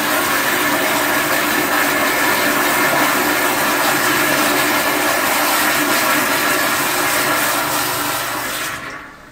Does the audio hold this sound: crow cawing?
no